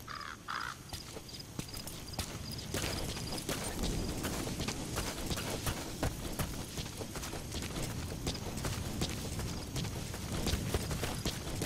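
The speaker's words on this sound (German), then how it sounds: "Warum bewegst du dich, Pferd?" Horse hooves clip-clopping in a steady walking rhythm across the ground in Metal Gear Solid V, faint and continuous against soft game ambience.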